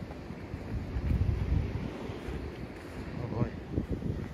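Steady wind roars and buffets the microphone during a walk through downtown Providence, Rhode Island, in a snowstorm, a constant rumbling rush with muffled voices faintly underneath.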